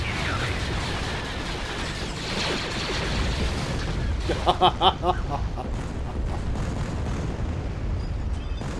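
Bombardment explosions in the Star Wars: Imperial Civil War space strategy game, a rumbling barrage of booms over steady battle noise, with a cluster of sharper blasts and crackles in the middle.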